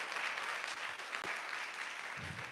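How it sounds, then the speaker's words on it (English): Steady applause from the audience at a midwifery public health event, a dense, even patter of clapping that holds for a couple of seconds with no voices over it. "give them a round of applause for their time and effort"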